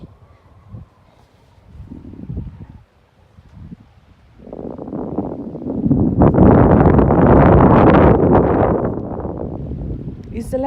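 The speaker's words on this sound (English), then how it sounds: "It's very windy." Strong wind blowing across the Badlands, buffeting the microphone in rough gusts, with brief talk near the start before a loud, sustained roar takes over.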